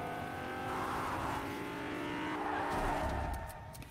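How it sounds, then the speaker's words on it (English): A car in the Fortnite video game drives over a hill, its engine droning and swelling as it moves, faint and slightly distant, with a brief skid-like hiss toward the end. "I think that is either Lasix or Junie hopping in there and driving over the hill like a curb"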